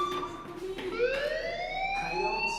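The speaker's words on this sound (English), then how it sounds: "do you hear that fire alarm?" In Life is Strange, a fire alarm rings steadily through a building: a loud, continuous wailing tone that rises gradually in pitch, heard alone over a low background hum.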